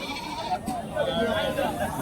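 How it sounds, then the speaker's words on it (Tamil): Goats bleat at a livestock market in Karimangalam, Dharmapuri district, the calls wavering beneath someone speaking nearby. "இங்கே வந்து வளர்ப்பு கிடா ரெண்டு வந்து வச்சுருக்காங்க"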